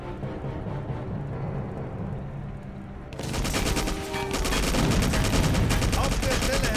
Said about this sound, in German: Airstrike initiated.